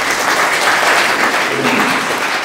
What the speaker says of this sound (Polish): Serdecznie przywitajmy oklaskami panią Monikę.